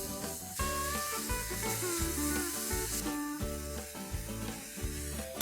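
Chopped chilies, ginger garlic paste and onion sizzle softly as they are stirred in a pan, the frying hiss partly buried under rhythmic background music.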